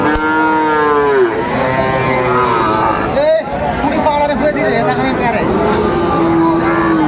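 A Sahiwal bull calf moos loudly and repeatedly at a busy cattle market in Dinajpur, with long drawn-out calls over crowd chatter, and people talk nearby throughout.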